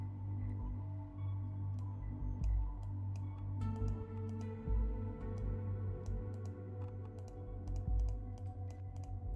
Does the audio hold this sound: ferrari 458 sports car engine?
no